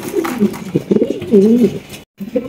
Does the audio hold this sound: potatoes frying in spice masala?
no